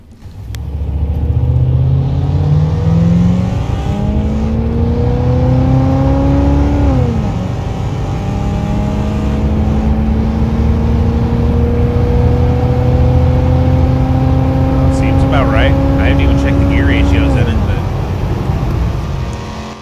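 A 1990 Chevrolet Caprice in Car Mechanic Simulator 2021 accelerates hard through its gears, the engine note climbing steadily, dropping at an upshift, then rising again in a long loud sustained pull with brief background sounds.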